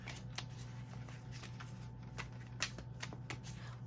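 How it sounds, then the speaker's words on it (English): Tarot cards being shuffled by hand, a steady run of soft, close riffling flicks and light slaps, quiet and continuous over a faint background hum, with nobody speaking. "One more shuffle. Sorry about all this shuffling"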